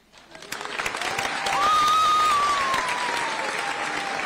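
Students at a high school awards evening receive audience applause, steady dense clapping that swells and holds at full strength, with a thin whistle-like tone rising through the middle.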